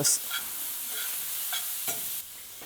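Huitlacoche seasoned with salt sizzles softly in a pan while being stirred, with a steady hiss and a few light scraping strokes, close and alone.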